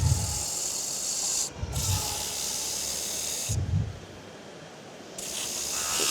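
Steady abrasive rasping of sandpaper against wood spinning on a lathe turned to lower speed, broken by a few brief pauses where the rubbing stops, with a low motor hum underneath.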